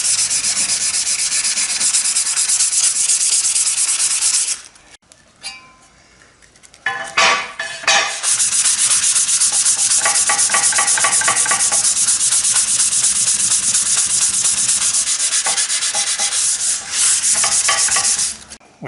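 Steady rasping scrape of a Stanley plane's metal sole being lapped back and forth on sandpaper and stone, loud and continuous, with a brief pause near the middle filled by clinks and handling noises before the rubbing resumes.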